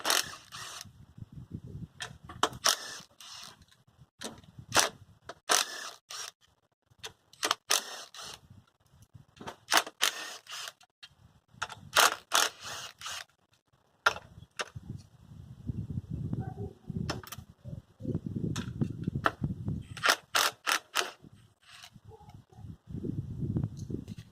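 Ratchet or wrench work removes 10mm bolts from the top plate of a Miata engine, heard as bursts of quick mechanical clicks and ratcheting separated by pauses, with some low handling noise in between.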